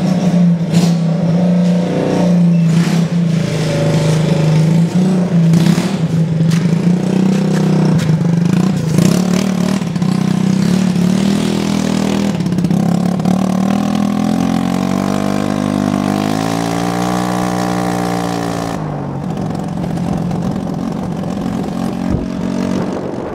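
Engine of a homemade rocket sled revving, a loud, close, buzzing small-engine drone that rises and falls in pitch over a long stretch, with no talking.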